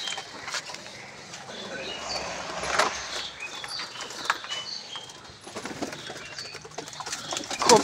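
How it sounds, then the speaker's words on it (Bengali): Pigeons in a loft coo softly at close range while wings and feet make scattered light taps and flutters over a low background hum. "সব পায়রা গম পানি খেয়ে নেয়।"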